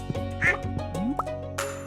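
A duck quacks on a farm in the video game Stardew Valley, a short, clear call rising over steady, looping background game music.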